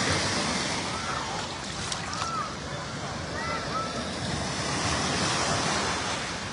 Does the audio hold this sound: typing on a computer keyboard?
no